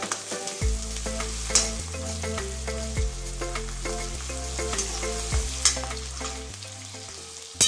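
Coarsely crushed garlic fries in a pan for a Maharashtrian capsicum bhaji, giving a continuous close sizzle with a string of stirring clinks and scrapes, and no voices.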